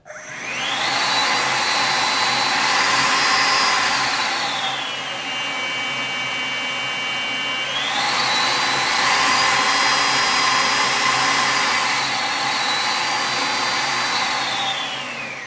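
Makita DCL282FZ cordless stick vacuum running steadily and fairly quietly, its loud whining motor tone shifting up and down in pitch as speed settings are changed, close and alone without speech.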